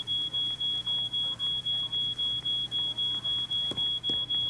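Smoke alarm in an escape-room video game, triggered by burnt toast, sounding rapid evenly spaced beeps without pause over a quiet low hum.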